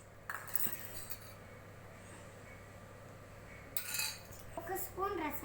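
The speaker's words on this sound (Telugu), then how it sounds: "1 స్పూన్ రసాన్ని ఇట్లా శుభ్రంగా కలుపుకోండి" A spoon clinks against a steel vessel while stirring a fever-remedy rasam made with vamu aaku (ajwain leaves), with a few short bright clinks near the end over quiet kitchen background.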